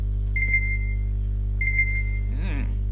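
In a Zelda game on the Great Plateau, an electronic alarm beeps repeatedly: two short bursts of high, steady tones over a constant low hum, followed by a brief warbling sound.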